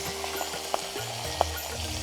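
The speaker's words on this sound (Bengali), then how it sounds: "এখন মাছের মাথাগুলো আমরা দিয়ে দিচ্ছি ওই তেলে," Fish heads sizzling as they are dropped into hot oil already used to fry onions, a steady crackling fry with a few sharp spits and pops and a low hum underneath.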